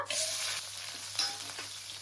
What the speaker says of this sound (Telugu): ఇప్పుడు ఇందులోనే పెద్దగా కట్ చేసుకున్న ఉల్లిపాయ ముక్కలు వేసేస్తున్నా